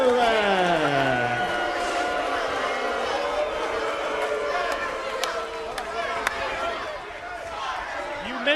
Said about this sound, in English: The roar for Sting in anticipation of possibly a new NWA World Heavyweight Champion